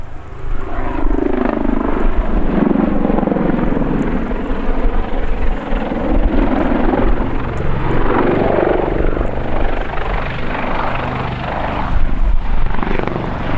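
Army Air Corps Lynx Mk 7 helicopter flying display manoeuvres and a pirouette along the flight line at an airshow at Waddington: a loud, steady rotor and turbine roar with a throbbing, shifting blade chop, continuous throughout with no talk.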